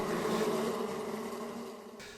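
A swarm of bees drones in a steady, close buzz that slowly fades, dense and unbroken, with no voices over it.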